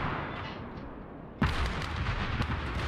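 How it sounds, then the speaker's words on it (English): An enemy artillery shell explodes in the WWII strategy game Call to Arms: Gates of Hell, a sudden heavy boom partway through that cuts into low rumbling battle noise and leaves a dense roaring wash with further thuds behind it. "This is the biggest problem on defense, is the enemy artillery."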